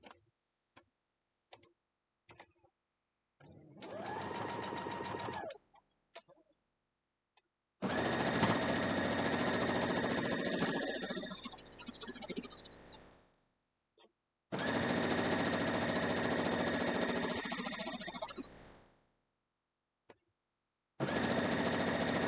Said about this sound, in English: we'll head over to the sewing machine and sew it down